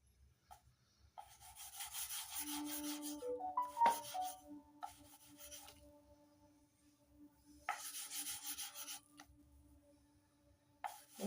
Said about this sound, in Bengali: এইভাবে সামনে পিছনে এবার ঘষলেই এই যে হয়ে যাচ্ছে, সুন্দর চুষি হয়ে যাচ্ছে।